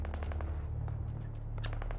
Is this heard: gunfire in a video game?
yes